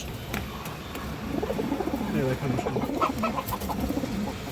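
Female pigeons kept for sale coo in soft, repeated throaty phrases close by, overlapping one another against a low background murmur.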